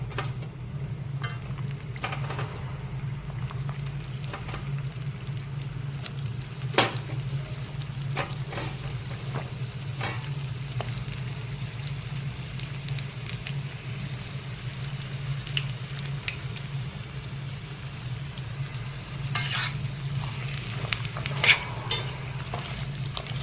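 Sliced bitter gourd fries in hot oil with a steady, continuous sizzle, broken by scattered clinks and scrapes as it is stirred in the pan.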